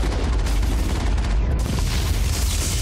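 Sustained gunfire and booms from a Mass Effect firefight against enemies, a dense continuous barrage of shots with rumbling low end, loud and steady throughout with no clear talk.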